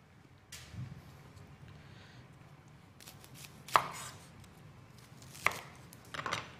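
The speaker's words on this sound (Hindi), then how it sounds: "प्याज को हमने रफली चॉप करना है" An onion being roughly chopped on a board: a few sparse knife strikes, with two sharp, distinct thuds and a cluster of cuts at the end, close and fairly quiet, no talking.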